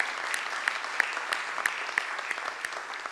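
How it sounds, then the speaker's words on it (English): A conference audience gives a warm round of applause, a dense, even patter of many clapping hands with a few sharper claps standing out, heard steadily with no talking. "give them a very warm round of applause"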